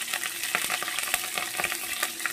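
Black cumin seeds, slit green chillies and onion frying in leftover fish oil in a wok, a dense crackling sizzle with quick stirring scrapes, close and steady with no talking.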